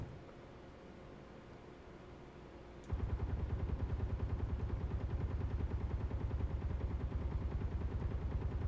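Rapid automatic gunfire aimed at a turret in the video game Space Engineers starts abruptly after a quiet stretch and continues as a dense, even stream of shots, fairly close and loud.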